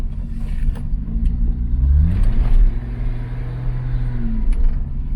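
Datsun 240Z with an L28 engine and a Flamer Throw electronic ignition coil: a close, rumbling idle with a brief rev rising and falling midway, light mechanical clatter on top, and no voices.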